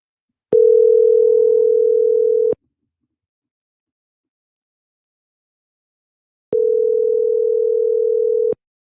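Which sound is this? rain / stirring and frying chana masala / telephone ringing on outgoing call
telephone ringing on outgoing call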